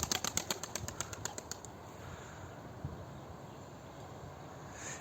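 Young pigeons taking off in a flock, a rapid burst of close wing claps and flapping in the first seconds that fades into faint airy outdoor ambience.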